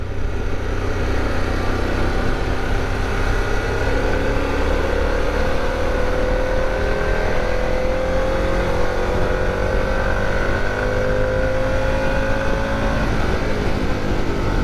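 A 2021 Harley-Davidson Pan America 1250 engine pulls steadily under acceleration, a continuous loud drone with a rising tone, buried in constant wind rush throughout.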